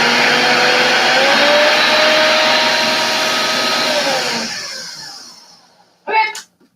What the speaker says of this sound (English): so we have the almond flour, the salt, and the baking soda, you're going to blend it